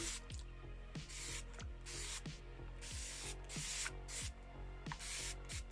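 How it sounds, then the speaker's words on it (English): A water spray bottle hisses in quick repeated bursts, misting hair, each short puff following the last at an even pace, close and fairly quiet. "show you with this watering spray how damp your hair should be"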